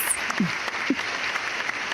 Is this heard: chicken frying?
no